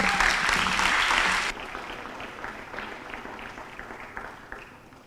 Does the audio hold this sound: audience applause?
yes